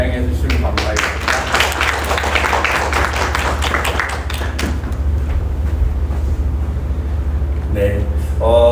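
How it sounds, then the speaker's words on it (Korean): A church congregation at Sunday worship breaks into dense, loud applause that rolls on for several seconds before fading into room noise, and a voice briefly speaks at the very end. "박수로 안녕해 주시면 감사하겠습니다."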